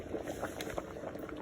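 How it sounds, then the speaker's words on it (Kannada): Lentils boil in a pot on a home stove, a faint, quiet bubbling and popping with small irregular bursts throughout. "ಬೇಳೆ ಬೇಯ್ತೈತೆ"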